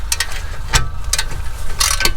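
Rapid ratcheting clicks from a wrench tightening brake bolts on a VW Transporter during a disc and pad change, several short close bursts of metallic clicking in quick succession.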